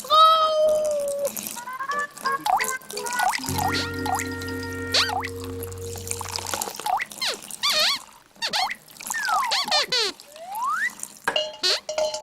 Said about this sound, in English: Dripping? Oh, no! The roof's leaking!